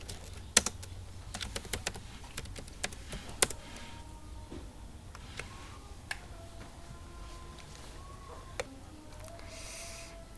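Fingers tap out a command on a computer keyboard, sparse irregular clicks and a few sharper keystrokes close by, set against a quiet room hum with no speech.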